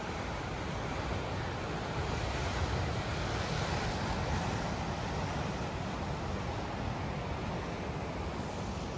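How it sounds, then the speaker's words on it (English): Waves break steadily in a tiny bay at Wilsons Promontory, a dense continuous wash of surf with wind buffeting the microphone and no voices. "Such a tiny little bay, big waves, beautiful water."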